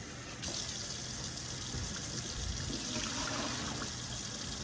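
Tap water gushes steadily into a pot or canner being filled for a home-canning water bath in a kitchen, a continuous close hiss and splash that carries on without pause and with no talking.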